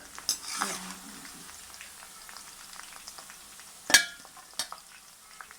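Fried okra being lifted out of hot frying oil and squeezed into a pot, with a soft steady sizzle broken by a few sharp metallic clinks of utensil against pan.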